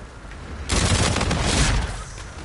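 Rapid automatic gunfire from a combined sniper and assault rifle in the video game Infinite Warfare, a loud sustained burst of shots rattling for nearly two seconds with no talking.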